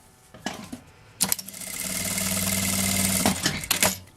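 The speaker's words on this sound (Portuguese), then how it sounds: "vou também passar a costura nas laterais aqui" A sewing machine runs a steady whirring stitch along the side seams of a child's mini backpack, near and fairly loud, framed by brief handling clicks before and after the run.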